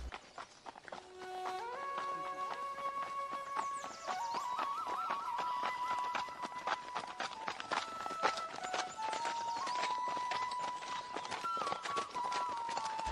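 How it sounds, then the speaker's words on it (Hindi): Cartoon horses' hooves clip-clop steadily throughout, a brisk continuous trotting rhythm layered over a bright melodic music track, with no talking. "अगली सुबह होते ही दोनों मित्र एक एक घोड़े पर सवार होकर मयूर राज्य"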